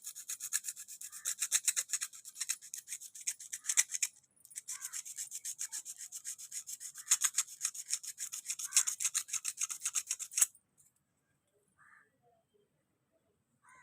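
An iron aari embroidery needle is rubbed to scrub off rust, giving quiet, fast, rhythmic scratchy strokes. There is a short pause partway through, and the rubbing stops near the end, leaving near silence.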